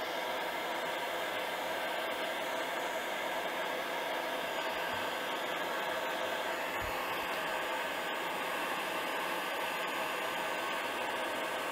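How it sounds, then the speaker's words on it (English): A heat gun blows hot air onto heat shrink tubing wrapped around a drone ESC, a steady close hiss and whir that holds level throughout without pause. "we take a heat gun and try not to aim at the foam, just aim at the sort of heat shrink"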